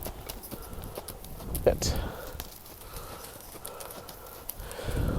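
A horse trots on the lunge, its hoofbeats a steady rhythmic clip-clop under a trainer's spoken command, with a brief louder thud midway.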